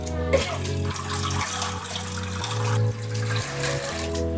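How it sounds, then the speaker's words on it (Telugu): Toor dal being rinsed with water in a pressure cooker while cooking drumstick-leaf dal, with steady swishing and splashing running the whole time under stepped background music. "తర్వాత కుక్కర్ తీసుకొని అందులో కందిపప్పును కూడా వాష్ చేసుకోవాలి"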